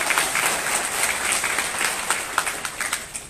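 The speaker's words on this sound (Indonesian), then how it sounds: "Berikan tepukan gemuruh untuk Zali." Thunderous applause from an audience at an evening gathering in Tawau, a dense, loud wash of clapping that thins toward the end into sharper, more separate claps.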